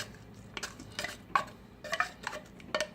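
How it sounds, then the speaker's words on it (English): Tuna macaroni salad with carrots being mixed in a bowl, a utensil scraping and clinking against the sides in a series of soft, irregular strokes, close and alone without talk. "Let's give it a good mix. Make sure it's not too clumpy."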